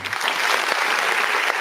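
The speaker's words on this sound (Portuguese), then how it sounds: "Os aplausos aqui da nossa web Rádio Grego para você." Radio studio applause broadcast for Guarani's man of the match Gabriel Bispo in a Guarani versus Coritiba football match, a dense, steady burst of clapping that stays loud throughout with no speech over it.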